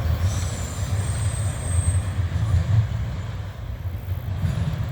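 Freight train rolling past on the railway, a loud close rumble of cars on the rails with a high wheel squeal early on, no talking.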